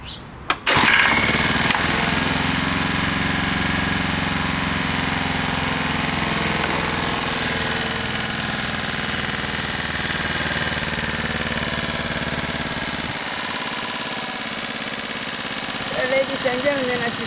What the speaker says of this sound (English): as you see, the engine is running continuously